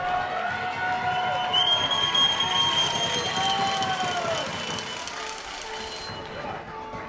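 A large crowd at a high school 2A baseball playoff game between Mumford and Refugio makes a steady murmur with shrill whistles and cheers, fading toward the end as an announcer talks over it.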